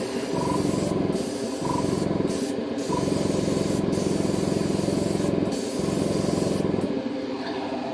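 An airbrush sprays dark red acrylic paint onto a Nerf blaster in a close, steady hiss, broken by several brief pauses as the trigger is released and pressed again.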